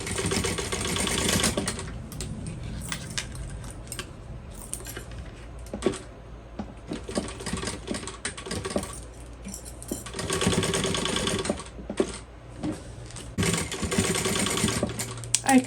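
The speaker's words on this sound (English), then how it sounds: "we're going to sew this at the seam allowance given in the pattern, and just sew that into place" Sewing machine stitching the seam of a fold-over crossbody bag, long close bursts of fast mechanical whirring with short pauses and small clicks in between.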